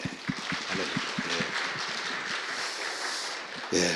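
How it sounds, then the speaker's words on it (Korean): Church congregation at a women's mission society dedication service applauding together, a dense, steady wash of clapping that holds for several seconds and swells again at the very end. "박수 한번 칩시다."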